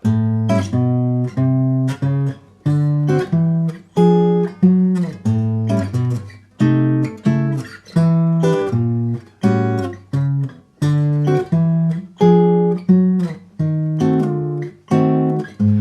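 Clean guitar chords strummed in a steady, repeating pattern, each chord ringing briefly before the next, with a bass note moving beneath a blues-style progression.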